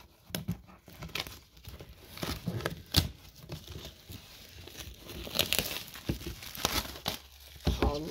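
A Pokemon Sun and Moon card pack being torn open and handled up close: crisp crinkling of foil wrapper with sharp tearing bursts, irregular rustles continuing for several seconds, no talking.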